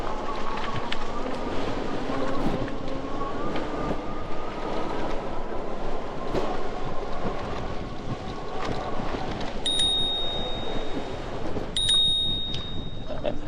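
The handlebar bell on a Rad Mini Step Thru 2 e-bike rings twice in quick succession, each a clear metallic ding cutting through steady wind buffeting and rolling road rumble during the ride.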